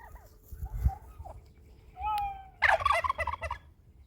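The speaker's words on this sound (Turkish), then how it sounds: "Arada bir hindi ile horozu göstereyim size." A farm turkey gobbles nearby in a loud burst, heard after a dog's faint whines and a short whistling squeal in a quiet outdoor setting.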